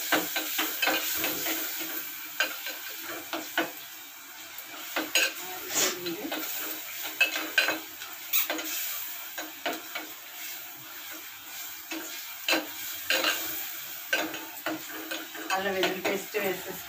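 Ginger garlic paste frying in a pan for a prawn biryani, with a soft continuous sizzle under frequent metallic clinks and scrapes of a ladle against the pot, close by and uneven in rhythm.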